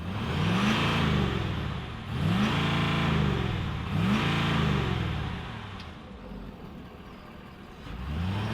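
A Ford F-350 Super Duty pickup truck engine revs repeatedly, with deep rising and falling sweeps in pitch, loud and close, then settles into a rumbling idle before revving again.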